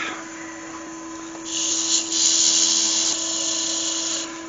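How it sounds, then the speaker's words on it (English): A walnut vase lid being sanded, probably on a wood lathe: a steady high whir with a bright, hissing abrasive rasp that comes in and fades out, close and fairly loud, with no talk. "Let me just sand that down."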